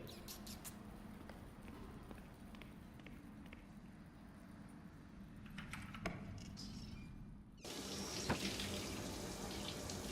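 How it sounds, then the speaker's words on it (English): Running water from a bathroom shower in Three Minutes To Eight hisses steadily at low level, growing brighter and louder partway through as if heard more directly, with faint clicks scattered throughout. "you hear running water coming from the bathroom. Someone is taking a shower."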